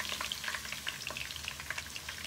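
Garlic sizzles and crackles in a hot pan while fried kuey teow is being made, a steady close frying hiss with small popping spatters and no talking.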